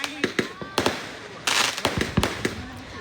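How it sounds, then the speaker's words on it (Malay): Fireworks at a Hari Raya eve celebration in a village, a rapid irregular series of sharp nearby bangs and crackles with a louder burst in the middle, voices faintly under them. "Sabar, bagi bunga api habis dulu."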